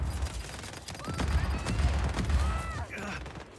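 Gunfire in Just Cause 4 crackles in rapid bursts of close shots over a rumbling game soundscape, building and then easing, with brief tonal effects toward the end.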